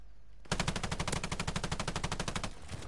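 Machine gun fire in the video game Call of Duty Vanguard erupts after a brief hush as one sustained, rapid burst of evenly spaced, loud close shots lasting about two seconds before trailing off.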